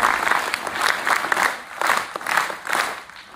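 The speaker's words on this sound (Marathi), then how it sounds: "तुमच्या सगळ्या शिक्षकांसाठी खूप जोरदार टाळ्या वाजवू शकतात" A crowd of schoolchildren and staff applauds their teachers at a primary school assembly, dense clapping rising and falling in loose rhythmic swells, close and loud throughout.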